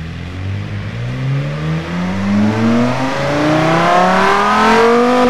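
A simulated car engine in the Automation game revs on a dyno test, one smooth, loud, continuous climb through the rev range with rising pitch and no talk.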